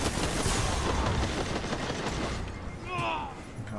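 Rapid gunfire from the exotic sniper rifle Whisper of the Worm in the shooter game Destiny 2, a dense continuous burst of shots with a brief whistling tone near the end, under a faint voice.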